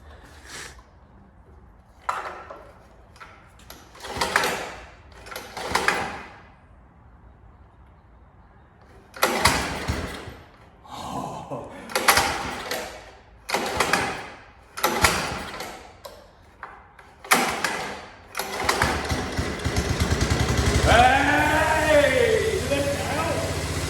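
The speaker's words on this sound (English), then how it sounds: "So now we're going to fire it up, see if it will fire for the first time." A Honda off-road buggy engine cranked for the first time, with bursts of starter cranking and sputtering attempts separated by pauses, finally catching into a lumpy, uneven run; speech is present in the background.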